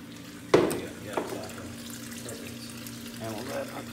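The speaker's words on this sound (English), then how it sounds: "Once that fills up, then keep letting it run, but just put the hose down so it'll just rinse it out." Water runs from a hose into a LOMO film developing tank while 16mm film is hand-processed, a steady trickle and splash with a sharp gush near the start and a faint voice underneath.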